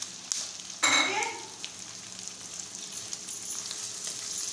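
Boiled chicken pieces stirred in a hot pan for shashlik, a burst of sizzling frying as the spoon moves through, then a steady softer crackle with light scraping; no talk over it.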